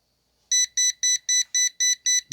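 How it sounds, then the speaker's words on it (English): A Kaiweets brake fluid tester pen gives an alert, eight sharp electronic beeps in an even rapid rhythm, loud and close after a brief silence. "it should turn green with no beeping."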